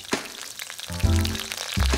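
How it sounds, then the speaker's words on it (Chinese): Ginger slices frying in plenty of hot oil in a wok, a close crackling sizzle with spattering pops and a few heavier clatters as the slices drop in. "接着热锅起油，油要多一点，依次爆香姜片"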